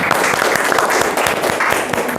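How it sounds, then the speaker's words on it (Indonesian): Audience applauding a student group in a university lecture hall, a steady dense patter of many hands clapping at close range throughout. "kita berikan aplaus untuk kelompok Satsirangan"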